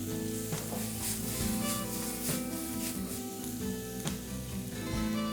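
Vegetables sizzle steadily in a pan, with occasional scraping and stirring strokes over a continuous close frying hiss.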